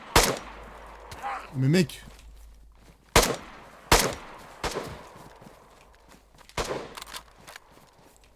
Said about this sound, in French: Je tire sur les zombies